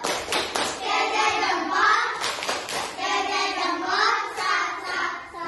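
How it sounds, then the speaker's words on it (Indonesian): A classroom group of children performs the rhythmic 'tepuk salut' clapping chant, sung voices rising and falling over patterned bursts of hand claps, loud and close. "sekarang tepuk salut buat kelompok Andi"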